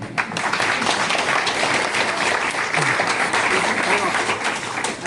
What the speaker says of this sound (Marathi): टाळ्या नीट वाजवा.